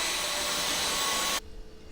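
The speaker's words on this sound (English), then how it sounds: "handy little Dyson stick vacs, wireless." Dyson wireless stick vacuum running at a loud, steady whine with a broad airy hiss, then cutting off abruptly partway through, leaving quiet room tone.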